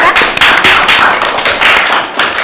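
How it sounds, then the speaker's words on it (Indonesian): Hands clapping in a lively burst from a small group at a Ramadan podcast gathering, close and loud with sharp, uneven claps continuing throughout. "Tepuk tangan dong rekan"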